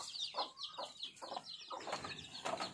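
Several chickens cluck and chatter in short repeated calls, fairly close, with faint background noise and no talking.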